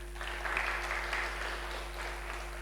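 Church congregation applauding after a Palm Sunday dramatisation during a service, a steady broad wash of clapping held at moderate, slightly distant level over a faint low hum, no voices on top.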